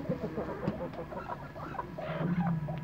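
A brooding hen sitting on a clutch of eggs clucks in low, short bursts, ending in a longer steady croon, close by and alone with no talking.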